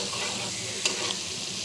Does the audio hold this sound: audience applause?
no